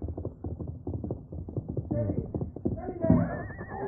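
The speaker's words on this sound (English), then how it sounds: "They became alert at the sound of approaching hoofbeats." Galloping horse hoofbeats and loud whinnies from an old-time radio western drama, ridden hard over rough ground; rhythmic clip-clop runs throughout with a neigh rising near the end, mixed with faint voices.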